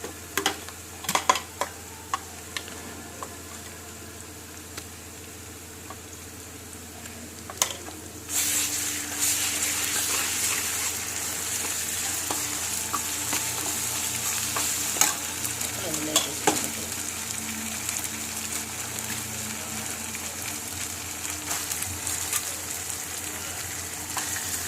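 Ginger garlic paste fries with onions in a pan for a prawn curry, sizzling and hissing steadily while a utensil clinks and scrapes against the pan; the sizzle swells louder after the paste goes in.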